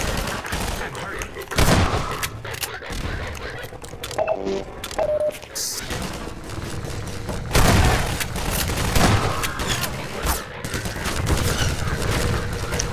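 Dense gunfire in the Half-Life 2 video game, with rapid volleys, automatic bursts and booming blasts that run nearly nonstop through a chaotic firefight, loud and close with only brief lulls.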